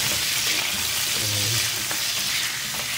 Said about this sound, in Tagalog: Pan fry natin.